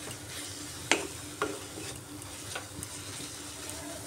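Spice masala with Kashmiri red chilli powder stir-fried in a pan for egg and masoor dal: a couple of spoon scrapes and clinks over a steady soft sizzle, close and fairly quiet.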